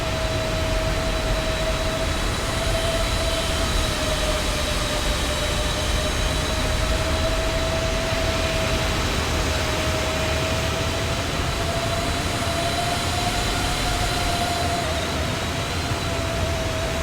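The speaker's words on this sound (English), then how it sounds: "Let's see if there's engine sounds." Simulated jet engines of a PMDG 777-200ER in a flight simulator drone steadily in flight, a constant broad roar with a sustained whining tone over the whole stretch.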